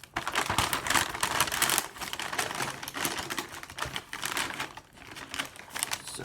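A greasy paper bag from KFC is crinkled and crumpled up close, loud and continuous, with dense rustling bursts that ease slightly partway through.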